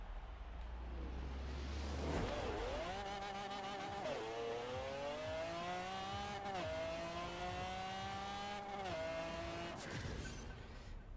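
A 1900 hp drag-build Ford Mustang in Forza Horizon 4 screams up through its gears, the engine note climbing and dropping at each shift change in a loud, continuous run with no voices.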